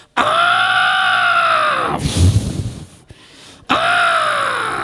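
A person imitates an elephant with two loud, brassy trumpeting blasts that slide downward in pitch, separated by a breathy, rasping pause.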